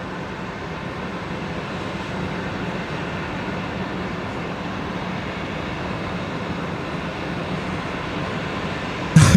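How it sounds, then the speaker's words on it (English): An Emirates airliner taxis at Brisbane Airport, a steady low engine drone and whine holding at moderate, even loudness throughout, with a brief louder bump at the very end. "There we go, Emirates is on the move."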